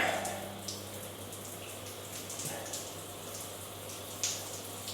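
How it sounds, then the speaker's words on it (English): A hotel bathroom shower runs water in a soft, steady hiss with scattered splashy drips and taps, fairly quiet and close, with no one talking. "Have a go at this shower."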